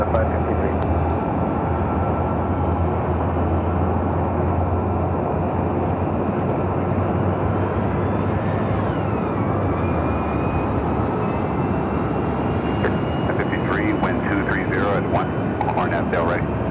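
Air Canada 553 airliner lining up on runway 24 left at LAX, a steady broad engine rumble and roar running continuously throughout, with a radio or spotter voice speaking faintly over it.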